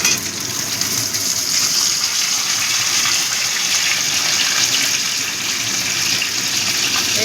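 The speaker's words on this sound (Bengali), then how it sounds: "এই গাঁটি কচুটা দিয়েও একটু ভেজে নেব।" Taro (gaanthi kochu) sizzling as it fries in a pan of oil for a mixed-vegetable prawn curry, a steady, dense hiss that runs unbroken and fairly loud throughout, with no talking.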